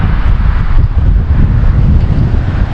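Strong gusting wind buffets the microphone outdoors in Renville County farm country near Olivia, Minnesota, with a steady, loud low rumble and no let-up throughout.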